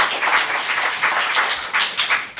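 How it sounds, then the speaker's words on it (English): Audience applause for the former mayor at a city commission meeting, a sustained crowd clapping that swells and dips in uneven waves across a few seconds, with no speech on top. "You can applaud the former mayor"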